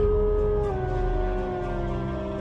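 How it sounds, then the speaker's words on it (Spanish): Spectral dogs howling as a sound effect, a loud sustained howl with a long wavering tone and layered harmonics that dips slightly in pitch and holds without a break. "la gente dijo haber visto perros espectrales aullando"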